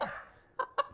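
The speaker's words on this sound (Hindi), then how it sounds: "अशफाक सोने को देखकर बोलने लगा, वाह कितनी सुंदर मुर्गी है ये" A golden hen from an animated Hindi folk tale gives two short, clipped clucks in quick succession after a brief fading sound, close and fairly quiet.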